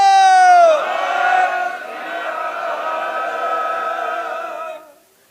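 A crowd at a march in Amritsar shouts the long, unified Sikh jaikara response to "Bole So Nihal", many voices sustained together before fading out.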